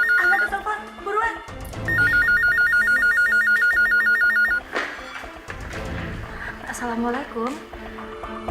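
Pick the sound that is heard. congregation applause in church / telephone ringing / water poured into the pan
telephone ringing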